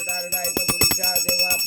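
A small hand bell rings during a devotional ritual, struck rapidly in a bright, sustained jangling rhythm with repeated clangs close by.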